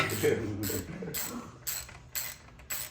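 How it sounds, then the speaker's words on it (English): Ratchet turning a shallow 1/2-inch socket on a bolt while fitting a Shovelhead primary to an Evo engine on a 1987 Harley-Davidson Softail, giving close, crisp clicking bursts in a regular rhythm, about six strokes. "So the first thing we're going to try is this shallow 1/2-inch socket."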